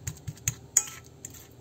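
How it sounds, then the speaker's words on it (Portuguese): A fork mashes ripe banana prata for a three-ingredient flourless banana cake, giving a handful of sharp, irregular clicks and taps against the dish, close and fairly quiet, with no talking. "Pegamos um garfo e vamos amassar essa banana bem amassadinha."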